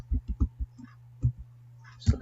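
Typing on a computer keyboard while entering a domain during web server setup on Debian: a quick run of close, light clicks, then a pause and a few more keystrokes over a steady hum.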